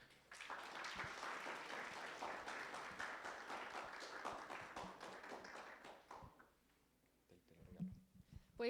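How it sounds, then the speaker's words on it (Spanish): A large audience at a school cultural event applauds welcoming two speakers, a dense, steady roar of clapping lasting about six seconds before fading out, followed by a brief voice nearby. "démosles la bienvenida con un fuerte aplauso a Mariana y Victoria"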